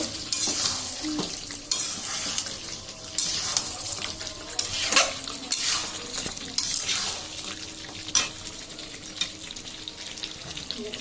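Beef cooking in a pan with water just added gives a steady sizzle and bubbling, with repeated scraping strokes of stirring and a few clinks of utensil on pot, close and fairly loud, with no talk.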